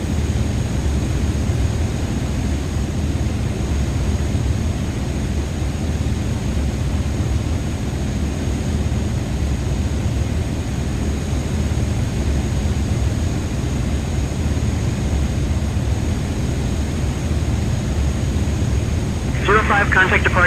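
A simulated airliner climbs out after takeoff from Bergen in Microsoft Flight Simulator 2024, its engines a steady broadband roar holding evenly throughout, with a brief higher rustle near the end.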